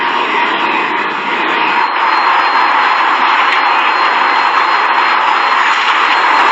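A Boeing 747 in flight during a grueling flight load survey test fills the scene with a loud, steady broadband roar of engines and airflow that holds unchanged from start to finish, with no voices.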